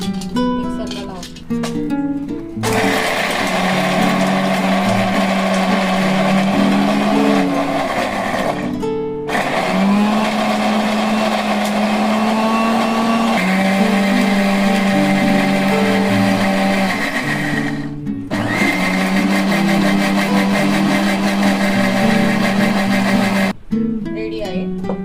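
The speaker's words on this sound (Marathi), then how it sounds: "तर हे सर्व आपण थोडंसं पाणी टाकून मिक्सरला लावू." An electric mixer grinder whirs loudly as it blends chutney ingredients with tamarind and a little water, running in long steady bursts that stop briefly and restart several times, its motor pitch holding a sustained drone.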